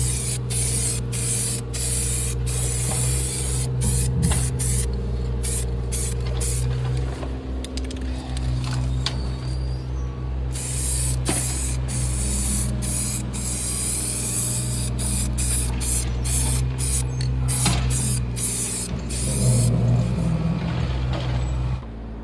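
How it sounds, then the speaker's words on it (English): Car body primer paint hisses from a spray can onto an electric meter box in long, repeated bursts with short pauses between them, loud and close, continuing throughout. "gradually build up the coats of paint using car body primer."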